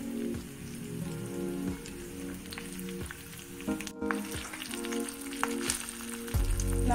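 Cumin, black pepper, chopped ginger and curry leaves sizzle and crackle steadily in a pan of hot oil, close and fairly quiet, with scattered pops and a brief stir partway through.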